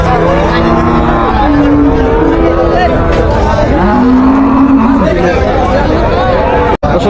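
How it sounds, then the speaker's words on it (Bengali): Cows moo repeatedly in long, drawn-out calls at a busy cattle market in Bangladesh, over a noisy crowd of chattering people, with one loud thump near the end. "বিশাল বড় একটা গাভি"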